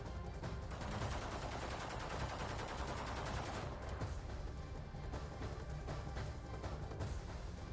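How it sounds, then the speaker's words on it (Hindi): Sustained automatic gunfire and rapid bursts of shots inside a presidential palace in Damascus, Syria, as rebels fire weapons, a dense continuous crackle filling the whole stretch with no talk over it. "अंदर दाखिल होकर किस तरीके से गोलियां चला रहे हैं। ये गोलियों की तड़तड़ाहट"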